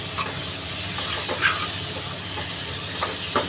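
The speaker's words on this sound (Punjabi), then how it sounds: "ਇਹ ਹੁਣ ਆਲੂ ਪਾ ਦਿੱਤੇ ਨੇ ਇਹਨਾਂ ਨੂੰ ਮੈਂ ਥੋੜਾ ਜਿਹਾ ਹਲਕਾ ਜਿਹਾ ਭੁੰਨਾਂਗੀ" Potatoes frying lightly in mustard oil crackle and hiss in a steady close sizzle, broken by a few soft scraping stirs of a spoon in the pan, with no voices.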